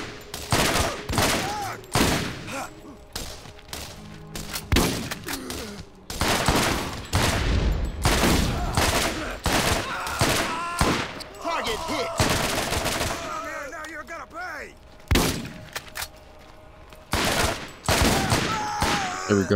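Gunfire in the video game Borderlands: loud bursts of rapid shots in repeated volleys with short pauses between, and a player's voice occasionally under the shooting.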